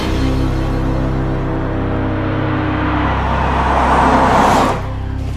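A 2013 Nissan Maxima engine pulls hard through a 0 to 60 mph run, a loud steady drone that climbs and swells toward a peak before easing off near the end, with no voices.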